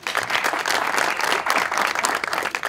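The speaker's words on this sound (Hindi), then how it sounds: "वेरी गुड, तालियां." A studio audience on a talk show applauds in a steady, dense wash of clapping that holds at an even level throughout, close and fairly loud, with no talking.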